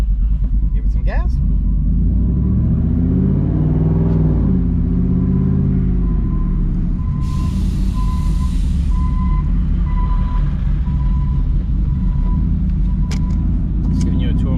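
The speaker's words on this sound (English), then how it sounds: "Give it some gas." A Ford F150 pickup truck's engine revs under throttle in an apartment complex garage area, a loud continuous rumble swelling and falling, with a reversing-style beep tone and a voice talking over it.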